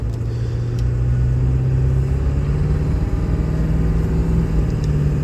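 A pickup truck engine pulls a towed load, its low, even rumble holding loud and close with a slight rise in pitch partway through and no talking.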